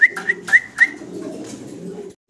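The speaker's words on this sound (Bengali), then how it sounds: "ভিডিও স্ক্রিনে দর্শক আমরা আপনাদেরকে দেখাচ্ছি একজোড়া ব্ল্যাক লাহোরি কবুতর।" A pair of black Lahori pigeons coos close by, four sharp tonal calls at the start trailing into a soft, low rumbling coo that fades out, with no talking.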